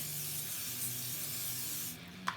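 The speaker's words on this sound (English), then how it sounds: "take a healthy amount of Pam cooking spray and coat this" A steady, close hiss of Pam cooking spray coating a pan runs for about two seconds, then stops with a small click.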